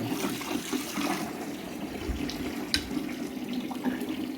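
Tap water runs steadily from a barn faucet into buckets, a continuous close splashing and gurgling hiss with a faint knock partway through.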